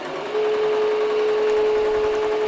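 An embroidery machine running a tack down stitch for an appliqué on sequin fabric, a steady close mechanical whir with rapid even needle chatter after a brief quieter start.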